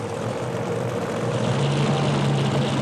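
A supercharged methanol-burning funny car engine roars at a 1977 drag strip as the rear tires spin to heat up, a loud steady droning blast with a rising pitched tone and no voices.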